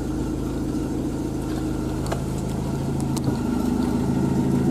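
A car engine with a fault idles steadily on a village roadside, a continuous low hum with a faint rhythmic pulse and no talking over it.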